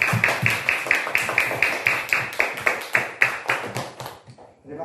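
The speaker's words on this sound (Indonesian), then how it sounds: "Tepuk tangan semuanya." Applause fills a classroom after a group presentation, a run of sharp rhythmic claps that swells together and then fades as the clapping thins out near the end.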